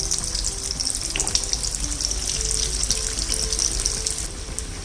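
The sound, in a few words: bread rolls deep-frying in hot oil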